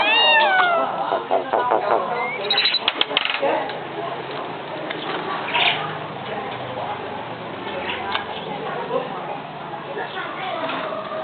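A pet myna bird mimics a cat, giving several close meow-like calls near the start and at about three seconds, then softer chirps and rustling over background chatter and ambient noise.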